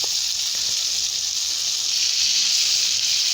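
Torn tomatoes fry in a hot pan for garlic chutney, giving off a steady, close sizzling hiss that stays level throughout, with no voices.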